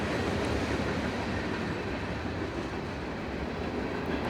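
A Wisconsin Central freight train rolls past on the former Monon line, producing a continuous rumbling roar with faint clickety-clack of wheels over rail joints, steady and fairly close.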